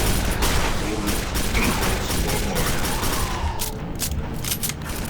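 Rifle fire in the shooter game Quake 4, repeated sharp shots over dense continuous battle noise throughout, close and fairly loud.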